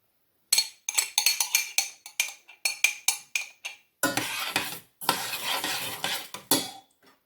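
Stirring a coconut oil hair mixture in a bowl, with close clinking taps of a utensil against the dish followed by longer scraping, swirling strokes, alone and without talk.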